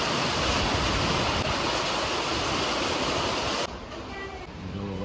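Heavy rain falls steadily during a downpour in Surat, a loud, broad, continuous wash that eases slightly near the end.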